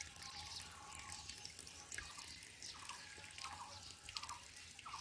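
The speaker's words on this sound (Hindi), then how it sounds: "ये इतना पानी आ रहा है, ये पीछे से आ रहा है चश्मे से पानी जमा हो रहा है।" Spring water flowing out of a pipe from a walled collection tank in a village, with a steady soft trickle and scattered small drips and splashes, faint and continuous with no talk.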